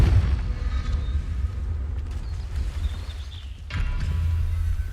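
A Confringo fire spell from Hogwarts Legacy explodes with a low rumbling boom, then a second, sharper blast erupts near the end over a continuous bassy background.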